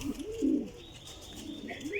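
Kasuri pigeons kept by a breeder give soft, low cooing calls, one rounded coo near the start and a quieter pair of coos toward the end, close by over faint background hiss.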